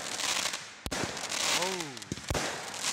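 Canada Day fireworks in Sunny Glades burst in sharp, loud bangs about a second apart, with crackle and rumble between them and a rising whistle trailing off mid-way.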